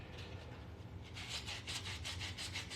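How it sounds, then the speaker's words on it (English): A sandpaper block rubs back and forth over a Don't Tread on Me coin ring, giving a steady run of close, even scraping strokes after a quieter first second, with no talk. "I'm going to go ahead and take a sandpaper block here"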